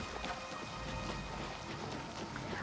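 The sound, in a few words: rain falling in Oblivion Shivering Isles video game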